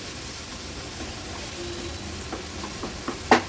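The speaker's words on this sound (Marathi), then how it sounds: "आता हा मसाला एक दोन ते तीन मिनटासाठी आपण असंच तेलावर छान शिजवून घेणार आहोत" Masala filling for stuffed bitter gourd cooks in oil, giving a steady soft sizzle and hiss with occasional light stirring clicks.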